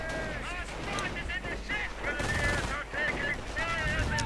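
Rapid bursts of BAR rifle and machine gun fire during an assault in a strategy video game, loud crackling volleys in quick succession over a dense battle din.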